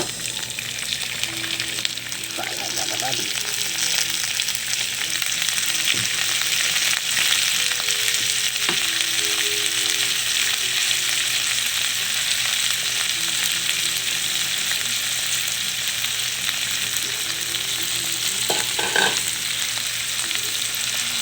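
Bitter gourd (ampalaya) frying in a pan with browned garlic, a steady loud sizzle throughout with occasional scraping clinks of a utensil stirring the vegetables.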